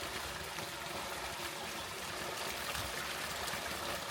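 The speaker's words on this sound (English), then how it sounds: "What's that noise I'm hearing? Oh, it's water." A small creek flows along the Beechworth Pipeline Track, a steady, soft trickling and rushing of water heard alone and fairly close.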